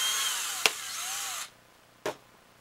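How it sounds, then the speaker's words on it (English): A power drill bores a 1/16 inch hole in a plunger tube for a homemade SnapBow, sounding as a steady, close whine for about a second and a half with a sharp click at the start, then silence and a short second tap. "we'll go ahead and drill a 16th inch hole where our trigger mark was"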